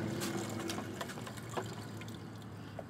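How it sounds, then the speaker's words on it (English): Water pours into a homemade water balloon cannon during a science demonstration, with a steady trickling and splashing stream, a few brighter splashes and gurgles, fairly close with no talking. "We'll just pour a little bit of water in."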